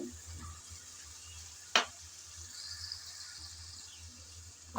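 Potatoes and green peas fry in oil in a pan for ghugni, a soft, steady sizzle close by, broken by one sharp clink of a utensil partway through.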